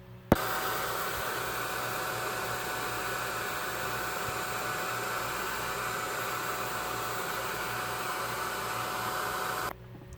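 A heat gun blows hot air onto custom Pop vinyl figures, clicking on and then holding a steady, close, broadband roar until it shuts off.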